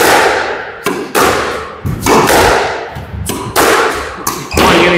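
A squash ball struck by rackets during a rally, seven or so sharp, hollow thwacks at an irregular pace, each ringing briefly off the court walls, close and loud with no talk.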